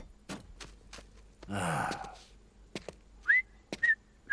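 Short whistled notes come in a few bursts near the end, after clicks and a long breathy sigh; no talking.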